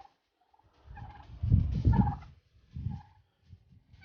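Backyard turkeys gobbling in a few loud, rattling bursts close by, the strongest in the middle and a shorter call near the end, separated by brief quiet gaps with no talking.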